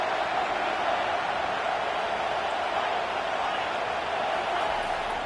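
A loud, unbroken roar fills a football stadium on third down, the massed crowd noise steady and dense throughout, heard from within the stands.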